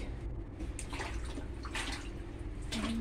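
Water poured into a plastic cola bottle for planting an avocado seed, a steady splashing, trickling flow that runs continuously and fairly close, rising slightly near the end as the bottle fills.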